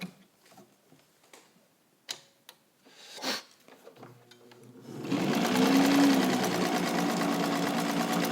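A restored White all-metal rotary sewing machine starts after a few quiet handling clicks, then runs at a loud, steady whir as it stitches through two layers of upholstery fabric.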